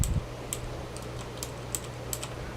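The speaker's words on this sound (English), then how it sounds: "this is me pushing the keys all the way down, and then just half pressing it just so the button can actuate" Keys on a Razer Blackwidow mechanical keyboard are pressed one at a time, sparse crisp clicks at irregular intervals, close and fairly quiet over a faint background hum.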